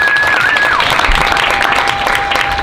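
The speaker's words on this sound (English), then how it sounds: "Let's give our winners one more round of applause." Audience applause for student award winners at a school Student of the Month ceremony: steady, dense clapping from a crowd, loud and continuous throughout.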